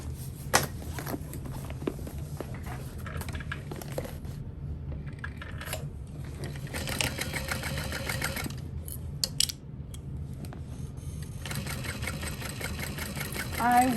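A sewing machine stitches a Parachute Knapsack, its motor whirring in bursts with rapid needle clatter, stopping and starting, up close.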